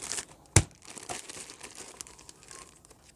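A plastic Ziploc bag holding disposable gloves crinkles and rustles close by, with one sharp crackle early on and then softer, uneven crumpling.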